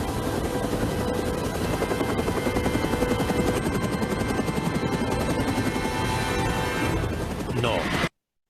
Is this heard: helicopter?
yes